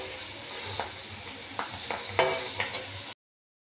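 Chana dal frying in a pan for a crispy cholar dal bhaja, giving soft continuous sizzle with occasional scraping and clinking of a spatula against the pan, close and fairly quiet, with no talking.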